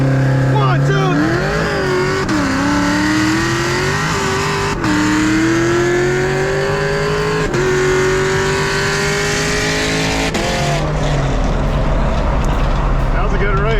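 A sixth-gen Camaro SS, fifth-gen Camaro SS and C6 Corvette accelerate in a street race, loud V8 engines climbing through gears with distinct shift dips, close and continuous.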